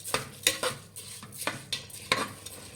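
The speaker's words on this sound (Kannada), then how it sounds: "ಒಂದು 2 ನಿಮಿಷ ಅಕ್ಕಿ ಫ್ರೈ ಮಾಡಿ" Washed rice being fried for a couple of minutes in mint masala, quiet close stirring with a rhythmic series of soft scrapes and taps of a spoon against the pan over a low sizzle.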